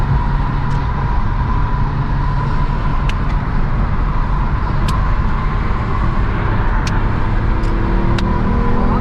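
Road traffic heard from inside a Genesis Coupe 3.8 stuck in slow traffic, a constant loud engine and road drone with a few short high clicks, no one talking.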